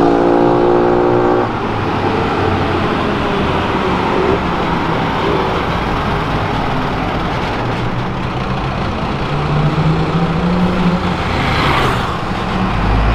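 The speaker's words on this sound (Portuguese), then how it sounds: "Caminhão do exército aí, ó." An army truck drives past on a busy avenue, its engine a loud, continuous rumble that holds steady throughout amid dense road traffic noise.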